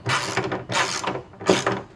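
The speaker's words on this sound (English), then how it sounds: "we're going to go and completely tighten these nuts" Ratchet wrench tightening nuts during a Honda BFWD shifter install, three short bursts of quick clicking pawl strokes, close and fairly quiet, with no talking.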